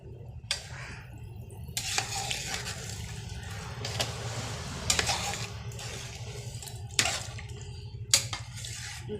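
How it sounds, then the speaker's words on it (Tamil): Water poured into a cooking pot on a wood-fired stove while chicken dum biryani is prepared, a steady liquid splashing with several louder gushes and spills over a low crackling rumble, close by, no talk. "தண்ணியை ஊற்றி"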